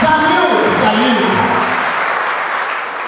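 An audience at a church appreciation day applauds, a loud burst of clapping that slowly fades, with voices and a tonal background sound mixed in.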